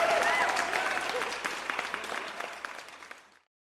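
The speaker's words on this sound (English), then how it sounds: "a huge congratulations and a round of applause to them for winning the Unique Creator Contest" A round of applause for the winner of an online creator contest: dense, steady clapping from a crowd that stays loud, then thins slightly and stops abruptly.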